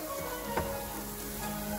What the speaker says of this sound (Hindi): इधर हमारा मसाला तड़का रेडी हो रहा है।